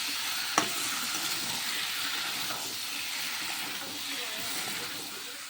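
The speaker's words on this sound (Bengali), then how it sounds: "এখানে পটল আলু আর টমেটো আর জিরে আদা বাটা দিয়ে পটল আলুটাকে কষিয়ে নিচ্ছি" Pointed gourd, potato and tomato sautéing in a pan with cumin and ginger paste, a steady close sizzle and hiss with faint stirring scrapes and one sharp clink near the start.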